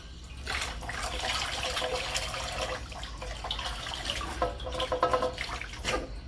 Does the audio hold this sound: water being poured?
yes